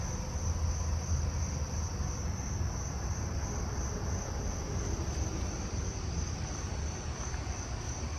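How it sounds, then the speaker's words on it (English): Carolina ground crickets trill in a steady, unbroken high buzz that stays even and continuous throughout, with faint insect and ambient background and no voices. "I'm hearing that and Carolina ground crickets in here."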